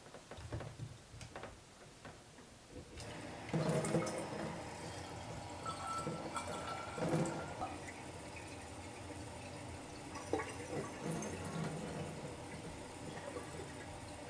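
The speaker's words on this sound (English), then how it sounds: "now we're gonna fill it with water" Water poured into a bottle fitted with a 3D printed watering lid, a close, fairly quiet filling gurgle and trickle that runs steadily for several seconds after a few handling knocks.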